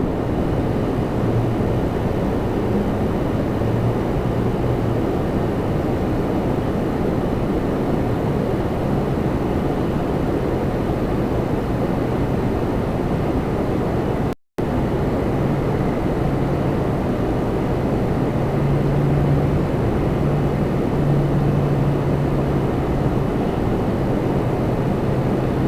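Steady, loud roar of a Porter Airlines plane departing Toronto Pearson for Halifax, heard as a continuous broadband rumble with wind buffeting across the whole stretch and a single instant dropout partway through.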